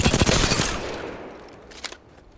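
Automatic gunfire in Apex Legends, a quick burst of loud, close shots that fades out, followed by a softer mechanical clatter.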